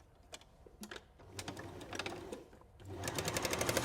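A sewing machine stitches a seam across the bottom of a fabric weight, starting in short bursts and then running in longer steady rattling runs, close and clear.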